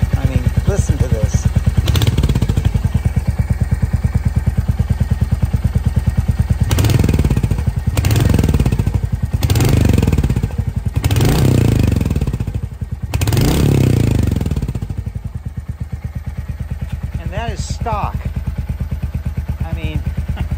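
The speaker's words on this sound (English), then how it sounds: "This has got one of the sweetest sounding exhaust systems for a stock system that I have ever heard" A Royal Enfield Hunter 350 motorcycle with stock exhaust idles with a deep, steady thump and is revved several times in short bursts. Close and loud, settling back to idle.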